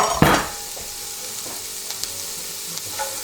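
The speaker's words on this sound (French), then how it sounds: "ici j'ai un oignon émincé que je mets dedans, hop, avec l'ail" Sliced onion and garlic hit hot fat in a casserole pot with a sharp initial sizzle, then settle into a steady, soft frying hiss with a few faint stirring clicks.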